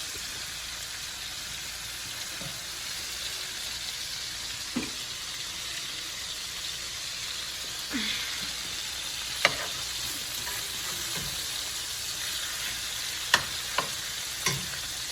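Thin cubes of a tender cut of meat fry in a pan for chop suey, a steady close sizzle like light rain carrying on throughout, with occasional sharp clicks and scrapes of stirring.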